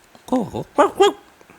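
A man imitates a dog with a few short, yappy barking sounds in quick succession, close and clear.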